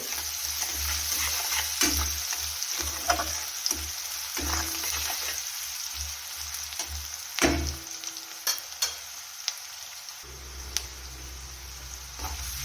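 Onion, crushed garlic and dried chillies fry in a pan and are stirred, giving a steady sizzle broken by repeated scraping and knocking strokes of the spoon, close and moderately loud, with no talking.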